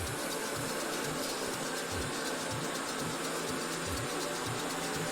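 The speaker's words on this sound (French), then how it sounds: "Que voulez-vous, c'est un aspirateur." A robot vacuum cleaner runs along a hallway with a steady whirring hum and a faint repeating mechanical ticking, constant and moderately quiet throughout.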